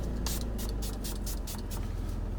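A handheld bottle of face mist sprays in a series of short, hissy puffs, about seven quick bursts in a row, close up over a steady low background hum.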